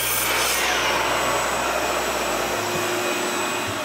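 A power saw whines loudly through a wooden panel being cut to size for the bottom of a toy box, a continuous harsh rasp that begins at full volume and eases near the end.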